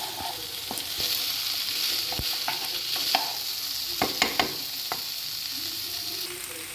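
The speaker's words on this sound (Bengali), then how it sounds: "কাবুলি ছোলাগুলোকে 2-3 মিনিট ধরে আমি ফ্রাই করে নেব।" Chickpeas sizzle and fry in a pan while being stirred for a chana masala, a steady close crackle broken by sharp scraping knocks of the spoon against the pan, with no voices.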